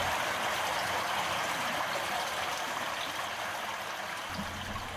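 Water flows steadily through a culvert fitted with a submerged ultrasonic area velocity flow sensor, a continuous broadband rush that stays even and close for the whole stretch, with no voices.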